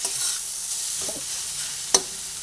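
Chopped green chillies sizzling in hot oil in a pan, a steady close hiss with a few scraping stir strokes and one sharp clink of the spatula near the end.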